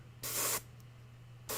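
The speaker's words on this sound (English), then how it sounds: "Man, this is really spitty. I don't know if it's the paint or the airbrush." Airbrush spraying paint onto a Star Wars Legion Dewback Rider miniature gives a sharp, close hiss in two bursts. A longer spray comes first, a brief sputter follows, and a second spray starts near the end, with a low hum underneath throughout.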